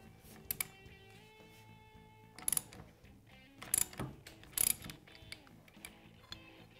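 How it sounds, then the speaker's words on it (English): A socket wrench ratchets in short bursts of clicks as it tightens a gear puller's center bolt against the primary gear of a KTM 690 engine, with metallic ringing between the spaced bursts in a quiet workshop. "we're going to tighten down the center bolt with a socket until this primary gear pops off"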